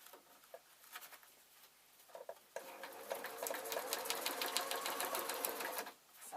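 Sewing machine stitching fabric for a ballet bag, with wool on the lower step. A quiet start leads into a steady, rapid burst of stitching that runs for about three seconds up close, with no talking.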